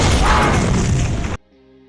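A loud, booming explosion in a Jason Statham action film roars for over a second, then cuts off abruptly into near silence with a faint lingering tone.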